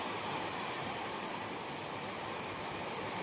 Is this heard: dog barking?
no